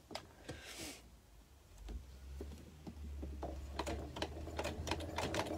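A sewing machine runs basting stitches through fabric with quick, faint, irregular clicks and ticks over a low motor hum that starts partway through and builds.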